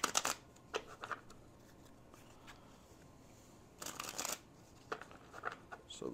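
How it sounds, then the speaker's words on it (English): A deck of cards is shuffled at a tabletop solo role-playing game, with bursts of crisp riffling and flicking separated by quiet gaps, close and moderately loud. "I am going to shuffle the deck."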